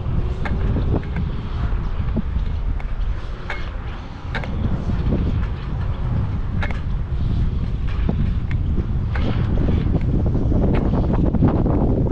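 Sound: wind blowing on the microphone outdoors

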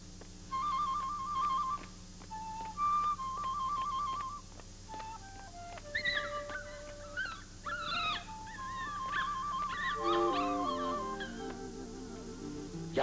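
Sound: dog whimpering, from a Mexican film

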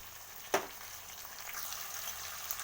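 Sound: onion, garlic and ginger paste frying and being stirred

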